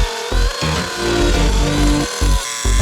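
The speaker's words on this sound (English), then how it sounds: "And I'm just gonna route this out," A power router cuts into oak table wood in loud bursts, its whining motor dipping and surging with short gaps between passes, close and harsh with no talk.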